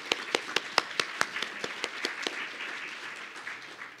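A conference audience claps in a short burst: a dozen distinct, evenly spaced claps that soften into a light scattered patter as it fades.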